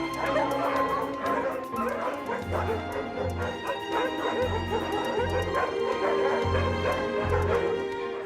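Many dogs bark, yip and whimper together at a crowded dog breeding farm housed in an old sheepfold in unsanitary conditions, the noisy chorus continuous and close with repeated deep barks throughout.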